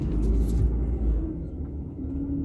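Inside the quiet cabin of a 1994 Jaguar XJ6 Sport, a big truck rumbles past with a deep, loud low-end roar that swells and then eases off into steady road noise.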